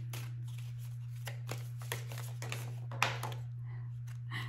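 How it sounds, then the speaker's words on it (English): Tarot cards are shuffled close up in a quiet room, a run of soft riffling slaps and flicks with a few sharper clicks, over a steady low electrical hum. "I just want to make sure I shuffle well first."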